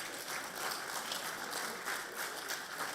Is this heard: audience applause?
yes